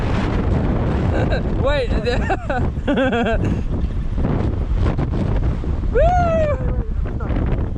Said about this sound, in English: the wind was like pushing me